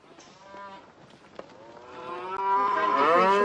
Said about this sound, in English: Sounds as if the cows were here already.